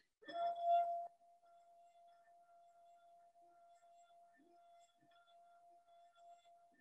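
A wine glass holding sand rings with a steady pure tone after a brief clink, the sustained vibration carrying alone and evenly to the end.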